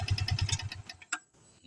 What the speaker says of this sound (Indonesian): kalau dimatikan itu biasanya ada bunyi terakhir setelah motor di kontak mati